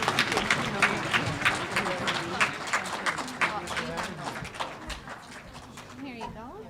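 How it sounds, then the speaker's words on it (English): Audience at a Métis land conference breaks into a burst of dense clapping that carries steadily for several seconds, mixed with overlapping chatter and voices throughout. "So let's give them all a big round of applause"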